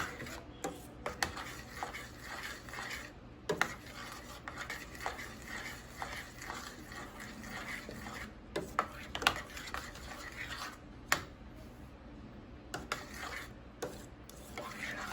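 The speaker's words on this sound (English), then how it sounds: "Stir in all your spices now, and stir it well." Spices stirred into Jamaican cornmeal porridge in a pot, a spoon rasping and scraping with frequent taps on the pot's sides, close and fairly quiet.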